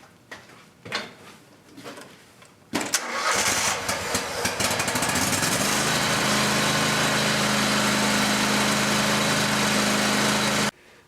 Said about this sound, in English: So now I'm going to start the mower